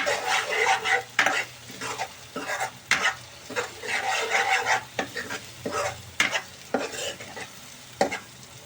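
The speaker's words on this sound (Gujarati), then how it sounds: "ઘડીક હળદરને આપણે એમ નામ સડવા દઈશું" Turmeric fries in oil for a tomato and boiled egg curry while a spoon stirs and scrapes the pan in repeated rhythmic strokes over a soft, constant sizzle.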